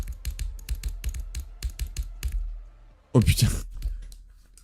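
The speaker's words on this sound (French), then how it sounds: "Le clic du clavier." Computer keyboard keys click in quick irregular bursts during a Geometry Dash session, close and crisp, before a man briefly exclaims over them.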